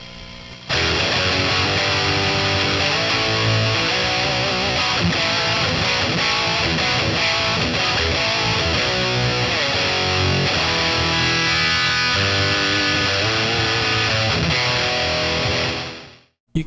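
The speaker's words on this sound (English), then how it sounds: "Let's do this test with a tube screamer." Electric guitar driven through a tube screamer-style overdrive into a Boss Katana MK2 amp, playing a thick, saturated rock and metal rhythm part loud and steadily for about fifteen seconds before cutting off.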